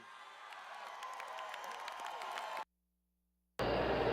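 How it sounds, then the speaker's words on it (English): A large crowd cheers and applauds at an election victory speech on midterm election night, a sustained roar that cuts out abruptly near the end, then returns loudly. "And you can hear the crowd there."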